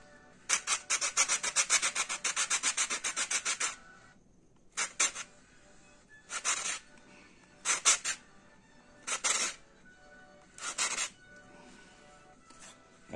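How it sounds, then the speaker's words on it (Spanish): Sandpaper rubbed by hand over part of a wooden model ship kit, in rapid rasping strokes at first, then several separate short bursts of sanding with pauses between, close and fairly loud. "vamos a darle con la lija"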